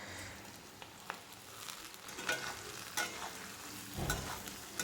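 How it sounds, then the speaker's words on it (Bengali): Vegetables and potatoes fry in a pan, a soft steady sizzle broken by scraping stirs and a few sharper clacks of a utensil, heard close and alone. "সবজিগুলো আমি মোটামুটি ভেজে নেব, তারপর আমি এর মধ্যে অ্যাড করব আলু।"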